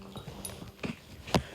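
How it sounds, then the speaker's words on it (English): Dog barking and whimpering faintly in the background, with a few short, separate yips spread across a quiet room. "Pardon the dumb dog in the background."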